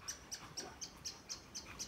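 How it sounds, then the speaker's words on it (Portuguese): Short high chirps repeat steadily about every quarter second, a small bird calling nearby above a dog kennel over quiet background noise. "barulho de passarinho é esse dentro do canil?"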